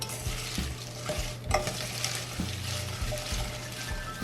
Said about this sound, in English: I'm just going to stir them occasionally until I get them going here.